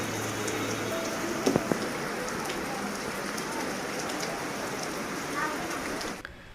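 Steady rain patters down at a temple, a dense even hiss of drops on surfaces with a few sharper knocks, continuous until it cuts off near the end.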